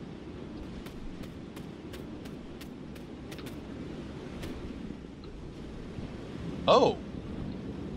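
Ocean surf washes steadily around an island in the game Pente, a continuous low rushing with faint wind, while a short spoken exclamation breaks in near the end.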